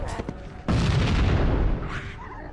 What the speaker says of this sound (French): tu m'as lancé une grenade, connard